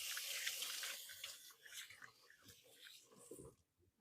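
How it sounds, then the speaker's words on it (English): Hands get a quick rinse under a running kitchen tap, a close splashing hiss of water that thins and breaks into scattered drips and splashes before cutting off. "I'm going to give my hands a quick rinse"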